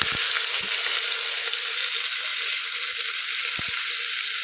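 Tomato, onion, chilli, garlic, ginger and spices frying in oil for a Kerala-style tomato rasam, giving a steady close hiss of sizzling with a few soft knocks of stirring.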